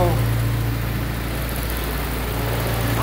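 An old vintage car engine with a new exhaust idles smoothly just after its first start, a steady low rumble close by while someone talks over it.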